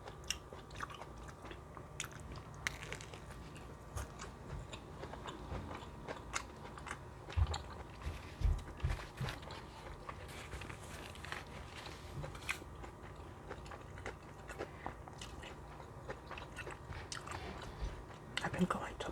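Crunchy Doritos Locos tacos being bitten and chewed up close, with irregular crisp crunches and crackles repeating throughout, quiet and intimate in an ASMR style, no speech.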